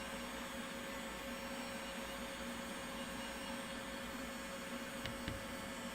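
A heat gun blows a steady, even rush of hot air over painted and waxed pieces of a Highland Easter cow craft kit, holding a constant broadband whoosh for the whole stretch with no talk.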